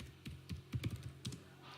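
A computer keyboard is typed on in a short burst of about a dozen soft, close keystrokes in an uneven rhythm, clicking alone against a quiet room.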